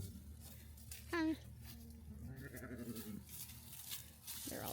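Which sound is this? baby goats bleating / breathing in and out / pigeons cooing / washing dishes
baby goats bleating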